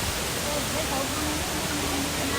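Steady, broadband rushing roar of a real waterfall, loud and constant throughout with no pauses, faint voices mixed in underneath.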